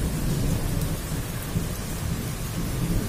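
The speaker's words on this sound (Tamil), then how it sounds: "தற்பொழுது மழை பொழிந்து கொண்டிருக்கிறது" Steady evening rain falling as a dense, even hiss with a deep rumbling undertone suggesting thunder, loud and continuous with no voices.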